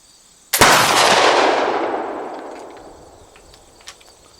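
A 12 bore flintlock gun fires once outdoors, a loud sharp blast with a long rolling echo that fades over several seconds.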